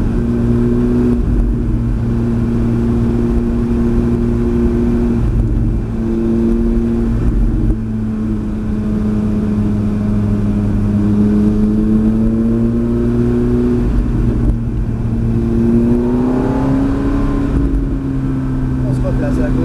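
A Ferrari F430 F1 engine drones loud and close on the Mérignac race circuit, its pitch holding, dipping and rising as the throttle changes, with people talking over it.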